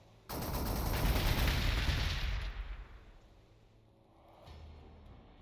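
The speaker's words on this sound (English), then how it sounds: "we might as well just keep shooting the city" Sustained burst of heavy gunfire from units shooting at a city in Warhammer 40,000: Gladius, a loud dense volley lasting about two seconds that trails off into a fading rumble, with a faint second report near the end.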